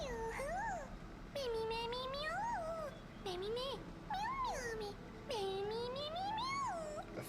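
A video game character meows repeatedly in a high, rising-and-falling whine, several drawn-out cat-like calls in close succession, loud and up front with brief gaps between them.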